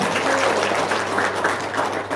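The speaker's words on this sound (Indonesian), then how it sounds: "tepuk tangan dulu dong." Audience applause at a seminar talk, a dense, even wash of clapping from a crowd that holds steady throughout.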